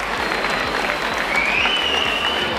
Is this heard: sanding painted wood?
no